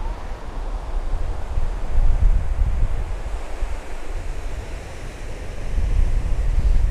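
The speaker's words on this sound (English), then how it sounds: "What an amazing beach it is and all." Ocean surf washes onto the beach at Sennen Cove in Cornwall, a continuous rolling roar of breaking waves mixed with heavy wind buffeting on the microphone, swelling slightly toward the end.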